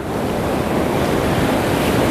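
Ocean surf rolling onto a Costa Rica shore during shore fishing, a loud continuous roar of breaking waves with wind buffeting the microphone, no voices.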